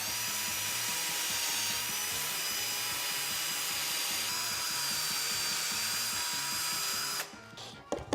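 Continuous grinding whir of a power drill with an extended bit boring steadily into a 1939 Ford truck, close and sustained, cutting off abruptly near the end with a few clunks.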